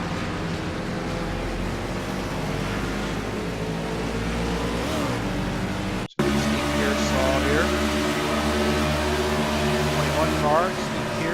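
Race cars accelerating and roaring around the Pocono track during a heat race, with a steady loud engine drone, rising revs and a brief cut midway, heard under ongoing commentary.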